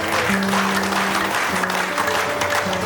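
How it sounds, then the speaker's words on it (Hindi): An audience at a senior training conference claps loudly and without pause, a thick wash of many hands with a low steady drone beneath. "अपने में दोनों हाथ बजाइए जोर जोर से"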